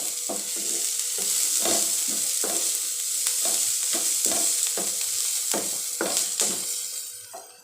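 Onions frying in a pan for street-style hakka noodles: a constant bright sizzle broken by a regular series of spatula strokes and scrapes, close and fairly loud, fading slightly at the end.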